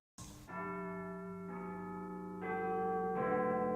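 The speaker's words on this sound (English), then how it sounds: "Then he heard a church bell ringing." A church bell rings four slow, resonant strokes, each tone sustaining and overlapping the next, growing slightly louder toward the end.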